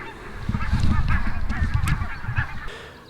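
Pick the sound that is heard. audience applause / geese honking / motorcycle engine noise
geese honking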